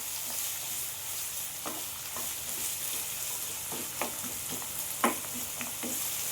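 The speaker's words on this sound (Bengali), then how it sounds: "পেঁয়াজগুলো আমি লাল করে ভেজে নেব।" Three large sliced onions fry in hot oil for mutton kosha, giving a steady close sizzle while scattered clicks of a spatula stirring them punctuate it, with no talk.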